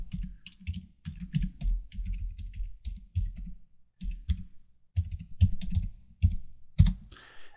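Typing an email address and password on a computer keyboard, with steady bursts of close clicking keystrokes in quick runs separated by short pauses, alone without talk.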